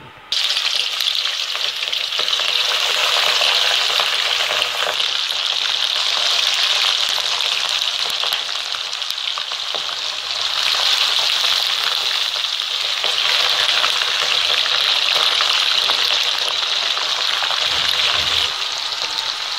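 Fish pieces fry in a pan over a medium flame for a Sindhi fish pulao, giving a loud, steady, close sizzle that crackles evenly throughout with no talking.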